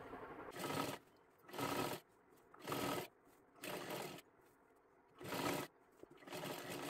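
A sewing machine double-stitches around the full hem of a girl's one-piece dress made from a sari, running in five short, even bursts separated by brief quiet gaps, close and alone.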